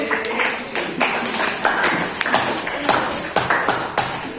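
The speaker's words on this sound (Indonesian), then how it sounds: "Oke, kasih aplaus dulu." A tenth-grade class at MAN 2 Makassar applauds in a classroom, with a moderate, uneven patter of hand claps and sharper individual claps spread over a few seconds.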